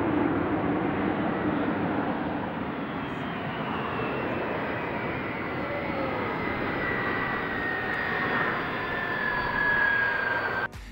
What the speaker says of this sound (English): This plane uses full reverse power to perform a hard braking landing.